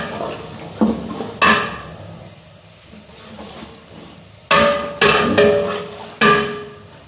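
Masala being stirred into browned onion and garlic in a cooking pot, with a spoon scraping and knocking sharply against the metal several times, close and clear, with quieter shuffling between knocks.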